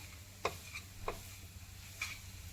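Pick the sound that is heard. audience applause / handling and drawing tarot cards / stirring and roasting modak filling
stirring and roasting modak filling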